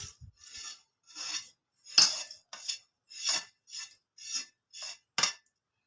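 Roasted chaat masala spice mix is tipped into a mixer jar in a series of about nine short gritty scraping and pouring bursts, each separated by brief silence, close and fairly clear.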